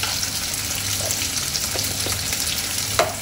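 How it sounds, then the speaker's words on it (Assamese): Onions and tomatoes fry in a pan with paprika powder, giving a steady, close sizzle with a few faint stirring clicks and no talking. "অলপ সময় এই পিঁয়াজ আৰু বিলাহী এইখিনি ফ্ৰাই হোৱাৰ পাছত"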